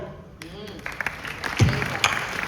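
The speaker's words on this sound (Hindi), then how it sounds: "एडवांस तालियां बजा दी।" At a live Hindi stand-up comedy performance, an audience breaks into scattered applause that builds unevenly, while a performer keeps talking over the clapping.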